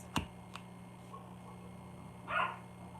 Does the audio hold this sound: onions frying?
no